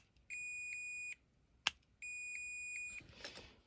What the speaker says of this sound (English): You can hear it's beeping now because that is touching that